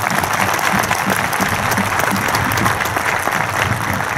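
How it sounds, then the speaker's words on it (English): Sustained applause from a large crowd at a high school graduation ceremony, steady and loud clapping that fills the whole stretch without letting up. "Round of applause, please."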